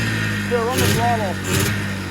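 An Arctic Cat Jag 3000 snowmobile, a barn find, revs up in a couple of swells over a steady idle, close and fairly loud.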